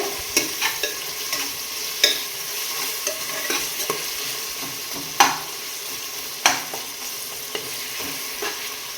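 Chopped onions fry in oil in a pan for a pepper chicken fry, giving a soft continuous sizzle broken by several sharp scraping knocks of a spoon stirring, close by and with no talking.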